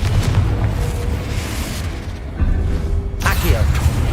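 Confringo fire spell blasts in Hogwarts Legacy combat, booming bursts and crackling fire over a loud rumbling background, with a sharp sweeping blast near the end and a voice calling out spells.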